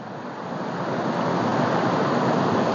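Cold creek water flows in a steady, dense rush that swells slightly and stays unbroken, close by with no voices over it.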